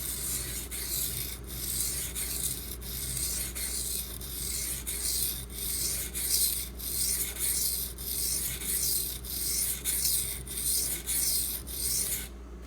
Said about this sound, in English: This is definitely a 220 grit stone. It sure is cutting quick.